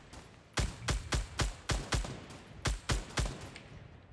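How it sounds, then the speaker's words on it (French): Fortnite Battle Royale gunfire: a rapid series of about a dozen sharp, loud shots in uneven bursts, each with a short echoing tail, no voices. "Attends, je tire."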